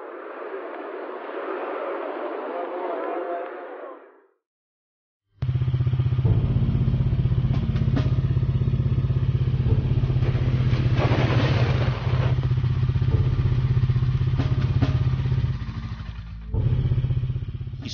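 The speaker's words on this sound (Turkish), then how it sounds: "Halk motosikletlerin sesinden anlardı milli şefin gelmekte ve geçmekte olduğunu." Police motorcycle escort passing, a loud continuous engine drone from several motorcycles after a brief separate noisy burst and a short silence, with clatter over the steady roar.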